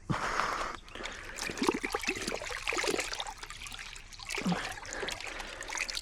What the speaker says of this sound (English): So, pour it in our bucket.